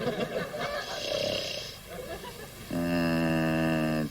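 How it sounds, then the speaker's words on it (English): A man snores in a classic TV sitcom scene. A rough, breathy stretch gives way to a loud, droning snore, with voices heard just before it. "He snores."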